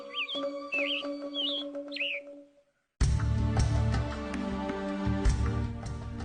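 Songbirds chirp and whistle in repeated short calls in the natural habitat of the Bali starling, an endemic bird, loud and close over a steady tonal background, then a brief silence gives way to dense, noisy ambience with continued scattered chirps.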